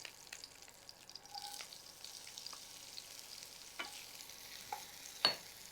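Onions added to a pan after green chillies sizzle quietly while a utensil scrapes and stirs, with sparse clinks and one sharper knock near the end, fairly faint and close with no talking.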